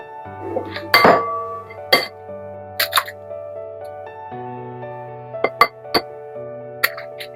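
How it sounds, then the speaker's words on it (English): Two eggs being beaten in an empty bowl for muffin batter: sporadic sharp clinks of a utensil striking the bowl over a steady tonal backdrop. "in an empty bowl, I'm going to beat in my 2 eggs"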